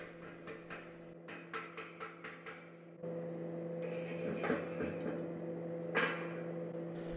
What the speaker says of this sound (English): He will also take the time to clean up the tack welds because the slag from it could interfere with his first pass.